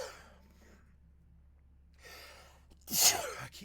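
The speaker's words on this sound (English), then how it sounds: "I keep sneezing. It's so annoying." A single sharp sneeze bursts out close by after a quiet inhaling breath, with a low steady hum in the background.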